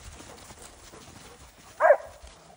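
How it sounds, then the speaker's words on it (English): A dog lets out a single short woof during a multi-dog play session, loud and close, standing out briefly against quiet background noise. "that was Fraser giving a woof"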